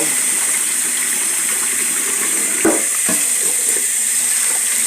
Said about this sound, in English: I just rinse it a few times until it starts looking non-cloudy